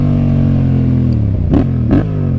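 Yamaha MT-07 motorcycle engine running loud and close with steady harmonic drone, the pitch sagging slightly, then two short sharp throttle blips near the end.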